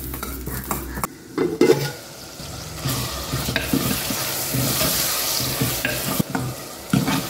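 Fenugreek kuzhambu ingredients fry in a pan and get stirred, with scraping spoon strokes and clacks over a continuous loud sizzle, and a few sharper utensil knocks, with no speech.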